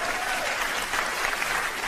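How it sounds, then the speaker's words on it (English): Audience clapping at a stand-up comedy show, a dense sustained wash of applause from a large crowd, loud and continuous, with no talk over it. "you see how they're clapping?"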